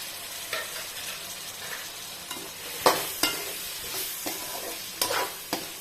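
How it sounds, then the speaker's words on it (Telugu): Tomatoes and curry leaves frying in a pan for a bottle gourd masala curry, with a steady low sizzle and several sharp spoon-stirring scrapes spaced through it, close and moderately quiet. "ఇందులోనే కరివేపాకు కూడా వేయించుకున్నాం"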